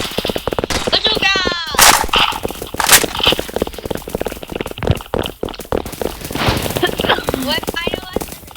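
Airsoft guns fire during a battle in rapid bursts and single pops, some close and some farther off, mixed with players shouting and talking.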